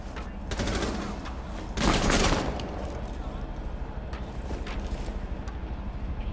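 Bursts of rapid gunfire crackle through a busy game soundscape, with a louder volley midway and continuous background noise and voices throughout.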